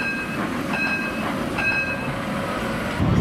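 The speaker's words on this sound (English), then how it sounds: "One of my favourite parts about this city centre, the beautiful tram network." A city tram rolls through Gothenburg's centre, a steady rumble of wheels on rail with faint high squealing tones rising and fading, continuous and fairly close throughout.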